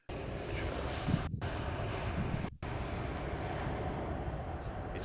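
A fixed-wing passenger plane comes in to land at London Heathrow Airport, its jet engine roar loud, close and steady throughout with only two brief dropouts.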